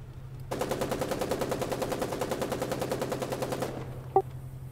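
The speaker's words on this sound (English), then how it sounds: "Joe, this guy's shooting to our right" Sustained rapid automatic gunfire in the video game Foxhole, a dense rattling burst of about three seconds over a steady low hum, ending abruptly before a single sharp click.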